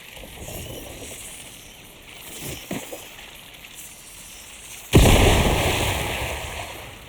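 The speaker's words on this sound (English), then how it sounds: "just chuck a grenade in amongst them" A thrown grenade in a mysterious-island survival game: after some quieter rustling and small thuds, a single sharp, loud blast erupts near the end and rolls off into a fading rumble.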